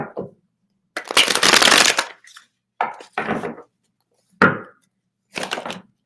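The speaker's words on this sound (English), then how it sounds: "feel free to focus on your question one more again on a hard shuffle" A tarot card deck is given a hard shuffle, heard as several separate bursts of loud riffling and clattering cards with short silent gaps between them and no talk.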